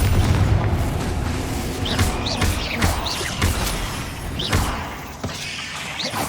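Confringo fire spell blasts in Hogwarts Legacy, several heavy booming explosions with whooshing bursts and crackle over a dense, loud rumbling game soundscape, fading slightly near the end.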